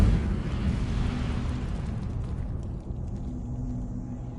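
The Incendio fire spell in Hogwarts Legacy goes off as a loud, continuous roaring rumble of flame, heavy in the low end and slowly fading over several seconds, with no talking.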